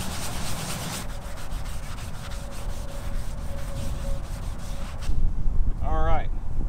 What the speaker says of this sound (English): I'm actually going to try this Scotch-Brite pad on with the bleach